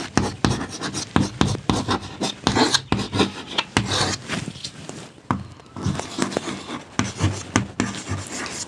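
Hand writing on a board or paper in a sociology lesson, heard as close, repeated scratchy strokes in short irregular bursts, each followed by a brief pause.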